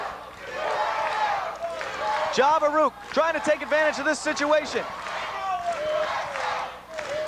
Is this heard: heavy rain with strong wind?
no